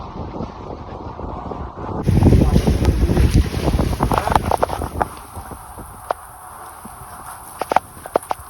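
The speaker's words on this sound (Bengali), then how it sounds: "প্রচণ্ড বৃষ্টি আর ঝড়" Storm wind on the Padma river batters the microphone with loud, rumbling gusts, heard from aboard a ship as a boat is caught in the storm, with scattered sharp taps and clicks as the gusts ease.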